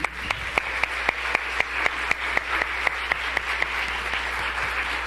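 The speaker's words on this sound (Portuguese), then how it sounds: "palmas para a Vanessa." An audience at a 1990 music festival recital applauds a national piano competition winner, with steady, fairly loud clapping and a few sharp, evenly spaced claps standing out.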